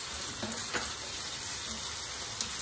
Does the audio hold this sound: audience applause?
no